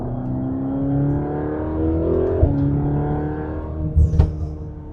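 A Mercedes-AMG GT Black Series 720 hp engine with an aftermarket exhaust drones steadily with low harmonic tones, rising slightly as it revs, then a couple of sharper pops and bursts near the end.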